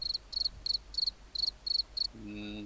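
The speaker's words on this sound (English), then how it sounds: "There's your fucking crickets." A crickets-chirping sound effect: seven evenly spaced, high pulsing chirps in a steady rhythm, clear and close, followed by a brief tonal musical sound at the end.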